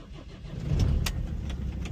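A car engine cranks and starts on a chilly morning, a low rumble swelling and settling into a steady idle, heard close from inside the car.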